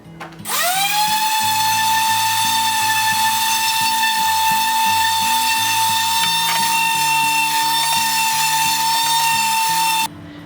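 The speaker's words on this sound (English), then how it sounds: "I'm going to start with 60 grit, which is a really coarse sandpaper to kind of get some of these big bumps and chunks off" A sander with coarse 60-grit paper works a rough wooden side table, a loud steady high motor whine that spins up at the start and runs without a break until it cuts off, over low background music.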